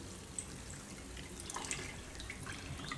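Shakkarpara dough pieces sizzling as they deep-fry in hot oil, a steady crackling hiss with scattered small pops running throughout, fairly quiet and alone.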